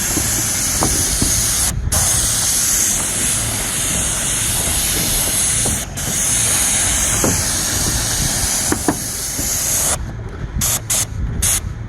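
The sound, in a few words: sprayer spraying coating onto a roof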